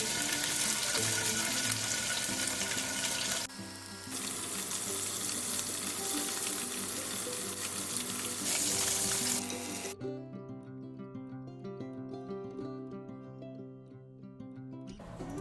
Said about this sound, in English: in a tablespoon of oil in a heated pan, I'm shallow frying these diced tofu cubes until light golden brown